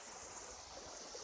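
The Tunki waterfall flows in a soft, continuous rushing hiss, faint and distant-sounding, with no talking.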